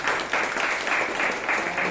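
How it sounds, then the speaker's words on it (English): Audience applause fills a Toastmasters club meeting room in Bangalore, a steady moderately loud wash of many hands clapping together for about two seconds with no talk over it. "Give a round of applause for them."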